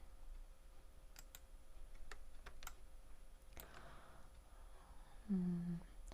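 Sparse keyboard key presses on a computer during Photoshop and Illustrator work, with a handful of light, dry ticks spread over a quiet room and a brief low hum near the end.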